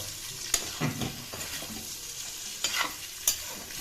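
Onion is stirred in a pan with frying pork, cooked without oil. A steady sizzle runs throughout, with several sharp scrapes and knocks of the spatula against the pan, close and clear.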